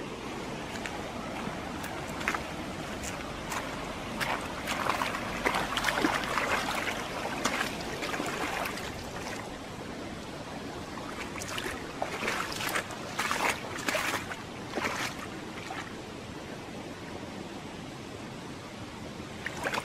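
A clear stream flows through primeval forest in Chư Mom Ray National Park, a steady low wash of running water with scattered brief splashes and knocks rising over it at intervals.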